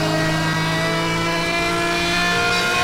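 Racing video game Need for Speed Hot Pursuit Remastered, with a car engine roaring loudly and continuously at a steady high-revving pitch and no voices.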